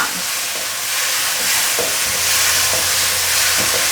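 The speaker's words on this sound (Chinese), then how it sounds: "现在放入甜豆，继续快速的翻炒。" Sugar snap peas stir-fried in a wok with king oyster mushrooms, sweet pepper and tomato, giving a steady, close sizzle with scraping stirs and a low hum underneath.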